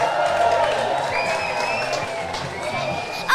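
Crowd applause and cheering from an audience giving a standing ovation to a man leaving the stage after a ghost and scorpion pepper eating challenge, steady and dense throughout with voices mixed in.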